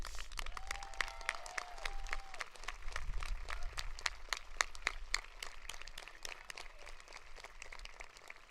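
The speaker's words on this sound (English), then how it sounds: "So if we could give a big round of applause to Mrs. Diane Burns." A graduation ceremony audience gives a sustained round of applause, a dense, even crackle of many hands clapping at a moderate distance.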